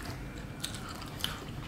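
Two brief, crisp bites into a fresh orange, soft and close, set about half a second apart in an otherwise quiet setting.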